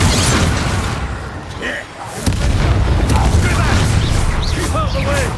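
Bombarda spell explosions burst in a Hogwarts Legacy battle, heavy booms and blasts landing amid loud combat effects and spoken voices, with a brief lull near the middle before the barrage resumes.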